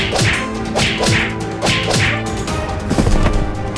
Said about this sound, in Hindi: ये सब ज़ॉम्बीज रोड की आइसक्रीम की तरफ आ जाते हैं और रोड को पीटने लगते हैं